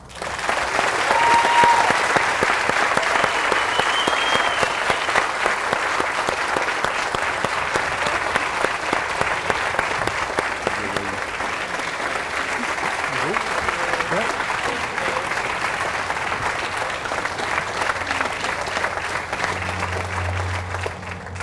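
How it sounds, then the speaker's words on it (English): Warm applause at a ribbon-cutting ceremony, a long, steady roar of many hands clapping for over twenty seconds, with faint voices and murmurs mixed in toward the end. "give these beautiful, wonderful, and dedicated ladies a warm round of applause"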